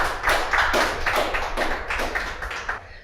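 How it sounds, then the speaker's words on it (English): A school quiz-show audience claps in a quick, even rhythm, the close, steady claps running throughout with no talking. "Shall we all clap for them?"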